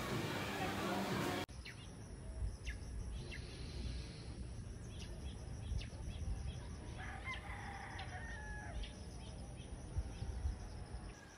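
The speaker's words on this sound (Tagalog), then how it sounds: "So, napakalaking manok." Roosters crow and chickens cluck at a gamefowl farm in the Philippines, several separate crows rising over a quiet outdoor background, moderately distant, with a short louder rustle at the start.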